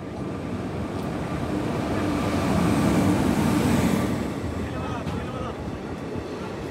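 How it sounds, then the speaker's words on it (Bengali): A passenger train arrives at a station in India during a long-distance rail journey, a steady heavy rumble of rolling wagons that swells midway and eases off again. "অবশেষে আমাদের ট্রেন এলো।"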